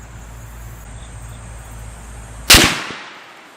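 Single sharp rifle shot from a T/C Compass deer rifle fired at a range, a loud close crack with a short decaying tail over quiet outdoor background hum and insect chirps.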